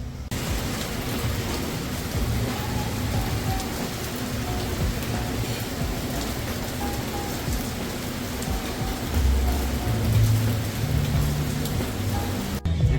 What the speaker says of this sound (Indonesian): di luar lagi hujan gede